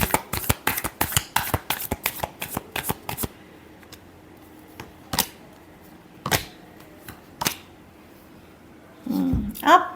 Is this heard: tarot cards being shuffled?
yes